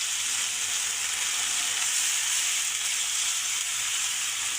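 Water hits frying spice masala for an egg and tomato curry, giving a loud, unbroken sizzling hiss close by. No voices are heard.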